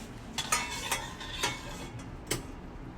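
Cupcake batter being mixed in a bowl gives off quiet, close scraping and clinking strokes, a handful of them at an uneven pace, each one distinct against a soft background.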